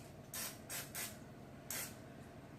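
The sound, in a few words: cooking spray on Pampered Chef mini muffin tin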